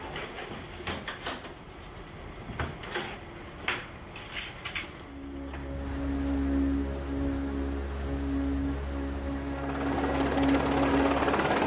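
A helicopter is heard over the sea, first under scattered clatter and knocks, then its steady rotor drone and engine whine swell loud and close, continuing to the end.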